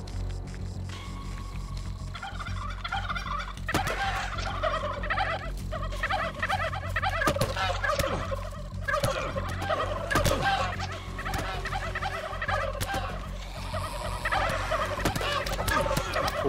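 Flock of turkeys in the zombie survival game How to Survive 2, gobbling over and over in overlapping bursts against a steady low hum, loud and near throughout.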